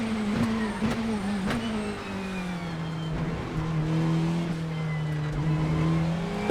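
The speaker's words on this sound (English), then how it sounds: "if I slam on the brakes and go down the gears quickly" Race car in the Assetto Corsa video game braking hard into a heavy braking zone and downshifting quickly, a loud engine tone dropping step by step with sharp rev blips between gears, close and alone.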